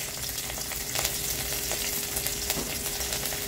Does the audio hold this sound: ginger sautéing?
yes